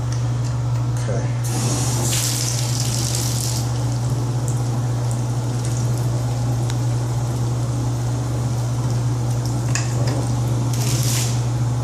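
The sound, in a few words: water running from toilet fixture after handle is tried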